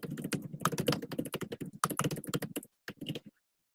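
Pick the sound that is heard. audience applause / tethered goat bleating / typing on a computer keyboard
typing on a computer keyboard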